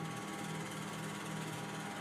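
The conveyor belt motor of a T960 reflow oven runs with a steady, quiet mechanical whir and fine rapid rattling, constant and unbroken throughout.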